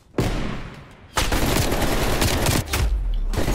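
Sustained video game gunfire shooting through a house, loud and close, with a short burst first and then a long continuous volley.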